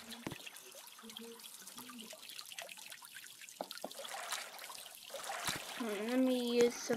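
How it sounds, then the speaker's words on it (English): Shower water running in a shower room in the Roblox game Royale High, a light steady trickle under a girl's chatter, with soft game sound effects and a tonal chime near the end. "I'm gonna go to shower room 3 and let's lock."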